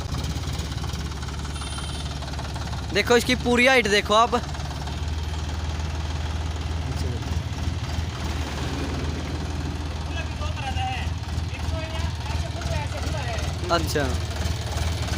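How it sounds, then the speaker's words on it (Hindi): A tractor engine idles at slow revs with a loaded front loader bucket raised, a steady low mechanical rumble running throughout while someone talks over it nearby. "ट्रैक्टर बिल्कुल स्लो रेस पर है और इसने बकेट को भरकर उठा लिया है"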